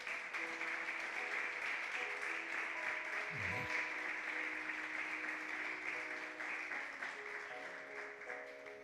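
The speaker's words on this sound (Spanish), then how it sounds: "Dale un aplauso al Señor." Church congregation applauding during a Spanish-language sermon, a sustained dense wash of clapping filling the room with steady loudness, while faint sustained musical tones from keyboard or organ hold underneath.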